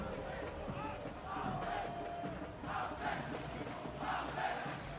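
A large arena crowd at the IEM Rio 2023 Counter-Strike semifinals roars and cheers in a steady, distant wash of noise with swelling chants and no clear talk.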